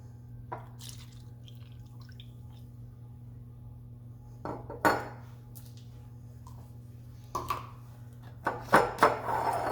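A spoon stirs soy sauce dipping sauce in a bowl, giving a few sparse, quiet clinks and light liquid sloshes over a low steady hum, with long gaps of near silence and no talk.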